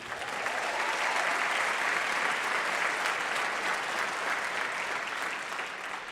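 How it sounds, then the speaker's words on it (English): Sustained, dense audience applause at a city talks event, steady and loud for about six seconds, with no voices over it before it eases slightly at the end. "Let's give them another round of applause"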